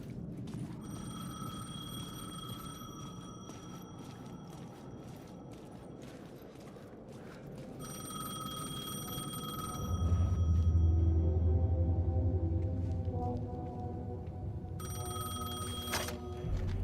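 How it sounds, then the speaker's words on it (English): A payphone rings in the video game Alan Wake 2, its bright electronic trill sounding in repeated bursts with pauses between, set over a low, rumbling ambient drone. "The payphone was ringing."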